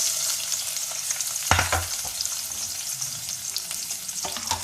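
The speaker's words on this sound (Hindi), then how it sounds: "इसको ब्राउन करेंगे प्याज को" Chopped medium onion frying in half a cup of oil gives a continuous near sizzle with a few sharp stirring clatters, the loudest around the middle and again at the end.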